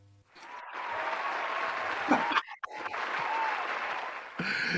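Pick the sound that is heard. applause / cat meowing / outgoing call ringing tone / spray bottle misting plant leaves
applause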